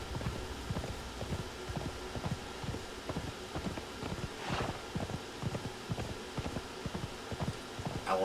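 Horse hooves clip-clop in a steady trot through the video game Conan Exiles, a rapid rhythmic patter of close, moderately loud hoofbeats running continuously, with a faint rain-like hiss in the background.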